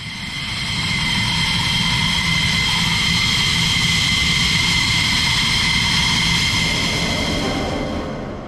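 An F-16D fighter jet in flight gives a loud, steady roar with a deep rumble and a bright whine on top, holding unbroken for several seconds before easing slightly at the end.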